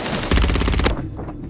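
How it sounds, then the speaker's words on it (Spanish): Rapid automatic gunfire from another player in a shooter video game: a fast burst of close, loud shots lasting under a second, then quieter ambient game noise. "Y me dispara otro"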